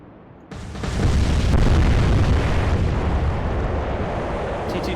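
A sudden heavy blast from an airstrike on ships in the naval warfare game Atlantic Fleet erupts after a quiet half-second and rolls on as a loud, sustained rumbling boom that slowly fades.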